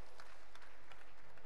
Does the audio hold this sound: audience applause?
yes